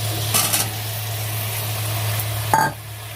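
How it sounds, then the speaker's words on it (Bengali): Masala sautés in a pan with a steady, close sizzle and a low hum, broken by two brief scraping stirs. "নামিয়ে যাবে না মশলাটা পড়ে যাবে ভালো করে কষাবো খানিক্ষণ"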